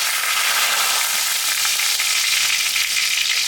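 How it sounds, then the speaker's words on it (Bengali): Whole garam masala, cumin, dry red chili and bay leaf sizzle hard in hot mustard oil, a loud, steady, close crackling hiss with no talk. "গোটা গরম মশলা সম্বরা দিলাম জিরা শুকনো লঙ্কা তেজপাতা"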